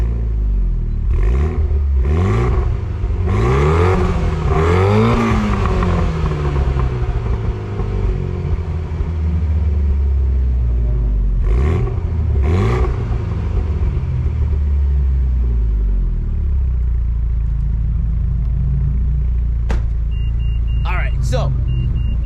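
A car engine revs hard several times close by, rising and falling in loud bursts, then settles into a steady rumbling idle with a sharp clatter near the end.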